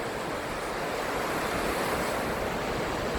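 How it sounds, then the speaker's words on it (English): Waves wash steadily onto the shore of a Lake Huron–area Michigan lake at Alpena, a loud continuous surf roar mixed with wind buffeting the microphone, with no voices. "Waves are coming through."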